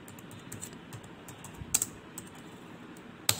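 Keys clatter on a computer keyboard while a caption is entered in Microsoft Access, soft scattered taps with a few sharper, louder strokes near the end.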